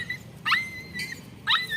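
A frightened dog that has been bitten by other dogs lets out three high, thin whimpering whines with a faint low growl, close and fairly quiet.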